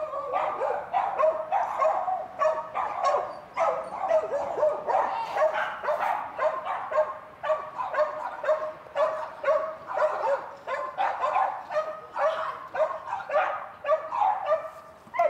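Several dogs bark and yip outdoors in a steady, continuous stream of overlapping calls at moderate distance, fairly loud with no talk over them.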